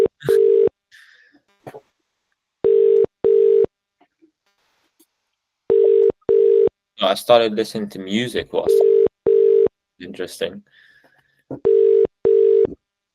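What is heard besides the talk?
phone call ringing tone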